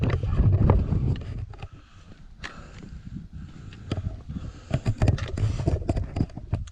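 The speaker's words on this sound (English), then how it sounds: "Oh, wind's really picking up." Strong wind gusting across an exposed mountain path at Rhyd Ddu in Snowdonia, buffeting the microphone with loud, uneven rumbling bursts that ease briefly mid-clip before surging again.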